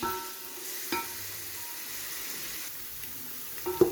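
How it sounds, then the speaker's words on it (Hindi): Onions frying with bay leaves and star anise in a pan for chana pulao: a steady soft sizzle, close but quiet, broken by a few light utensil taps near the end. "प्याज को हम इसके साथ हम फ्राई करेंगे"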